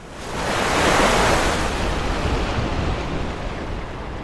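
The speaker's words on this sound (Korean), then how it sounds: "거짓말처럼 제 눈앞으로 파도가 내리 떨어졌습니다." A wave crashing sound effect in a Korean horror radio story: a loud surge of surf breaks and rushes, then settles into a broad, sustained wash of ocean noise.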